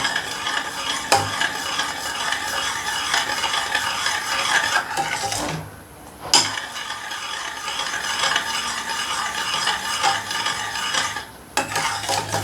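Carrot pudding mixture bubbling and simmering in a pot, a steady close sizzle with scraping and clinking of a spoon or utensil against the pot, briefly dropping away for a moment midway.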